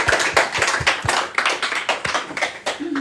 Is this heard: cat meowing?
no